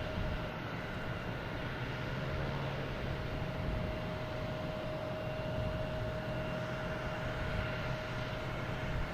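A British Airways airliner takes off from a runway at Boston Logan Airport, a steady, broad jet roar holding evenly throughout at moderate distance, with no voices.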